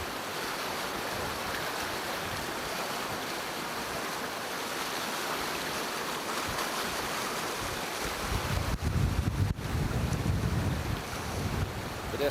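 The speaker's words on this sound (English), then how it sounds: "Closer shot of the water coming down the fish ladder." Water rushes down a fish ladder at a diversion dam in a steady broadband roar, mixed with wind buffeting the microphone, and grows rougher and louder toward the end.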